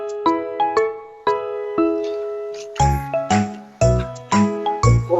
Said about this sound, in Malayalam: ഉമ്മ നിങ്ങളെ ഫോൺ അടിക്കണതാ.